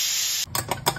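A pressure cooker of vegetables on a low gas flame vents steam in a loud, steady hiss that cuts off abruptly, followed by a few brief sputtering puffs.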